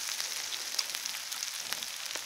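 Pork belly sizzling and frying on a stone grill plate heated over a wood fire, a steady bright hiss with scattered small pops and crackles, close and continuous with no talking.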